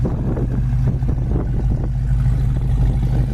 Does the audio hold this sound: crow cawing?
no